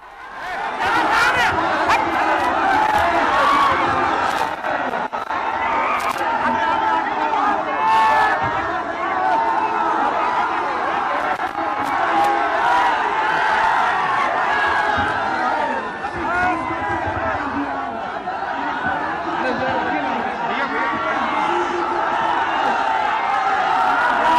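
A large crowd of supporters at a Tejashwi Yadav rally in Jehanabad keeps up a steady roar of shouting and chanting, a loud, continuous mass of voices without pause.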